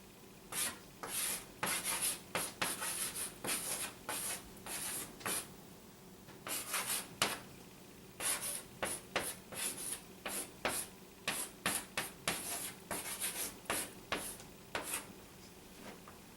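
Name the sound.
writing words down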